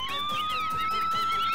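A wailing ambulance siren sweeps up and down in steady repeating cycles, loud and continuous, alone and close for the whole stretch.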